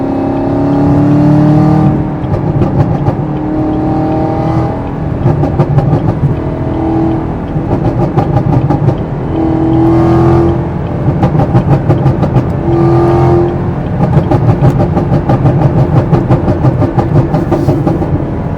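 A tuned Camaro ZL1 cruising on the freeway, its loud engine droning steadily and rising in pitch through several accelerations and gear changes, with a throaty rumble heard close up throughout.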